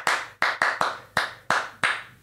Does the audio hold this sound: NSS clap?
yes